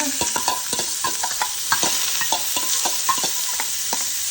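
Finely chopped onion and garlic sizzle and fry in hot ghee in a pan, a steady bright hiss broken by repeated scraping stirs of a spoon, close and continuous with no talking.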